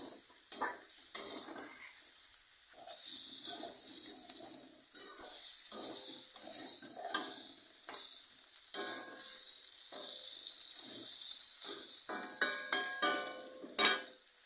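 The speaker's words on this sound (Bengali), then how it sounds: "এর উপরে এবার আমি চিংড়ি মাছগুলো দিয়ে দেব দিয়ে এই পেঁয়াজ আর আদা আর কাঁচা লঙ্কার সঙ্গে ভালো করে মিশিয়ে নেব" Prawns frying in a pan with onion, ginger and green chili for a prawn malai curry, a steady close sizzle with light stirring clatter and a few sharper utensil knocks near the end.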